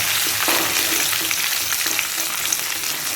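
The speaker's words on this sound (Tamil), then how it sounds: "பச்சை மிளகாய் சேர்த்துக்கலாம்." Green chillies hit hot oil for rice upma and set off a loud, dense, continuous sizzle. It stays close and steady throughout, with faint clinks and no voices.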